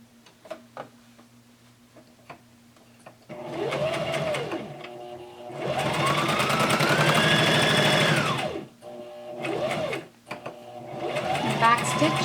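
A sewing machine stitches the top edge of a cloth face mask with filter pockets, running in several bursts of fast, even clatter separated by pauses, close and loud, while someone talks between runs.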